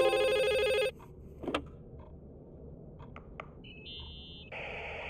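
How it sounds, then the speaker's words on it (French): An odd telephone in an abandoned-hotel horror game finishes a loud trilling ring, then the line goes quiet apart from a few clicks and knocks. A short electronic tone and a buzzing ring-like signal follow near the end. "Attends, c'est peut-être le téléphone bizarre."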